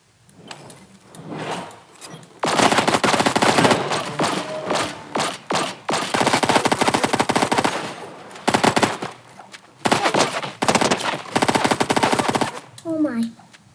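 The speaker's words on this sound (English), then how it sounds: "I at least got to try out the smart pistol" Rapid automatic gunfire from a smart pistol in a first-person shooter game, loud, dense bursts of shots repeating over several seconds with brief pauses between volleys.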